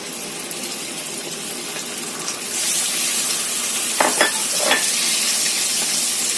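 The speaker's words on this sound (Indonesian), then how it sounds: "tambahkan 1 sendok makan mentega" Steady sizzle of butter melting in a pan that swells louder midway, with a couple of light metallic clinks of a utensil near the end.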